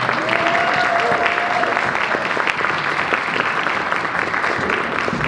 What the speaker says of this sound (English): give a big round of applause for Brian.